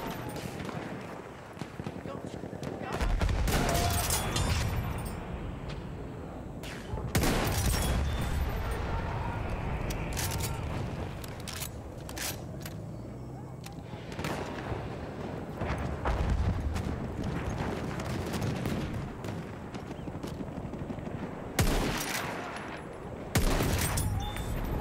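Gunfire in the Battlefield video game, with repeated broadband shots and bursts spread across about 25 seconds under a continuous layer of game noise and talk.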